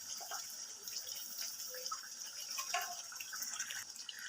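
Water pours into a pot of chicken korma with green chillies and meat, a steady hissing stream with small splashes, close and moderately loud.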